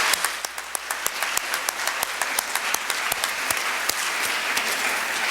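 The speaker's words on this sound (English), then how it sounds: "Please join me in a round of applause for these people." An audience applauds steadily at a high school fine arts festival, with dense overlapping claps from a large audience holding at an even level throughout.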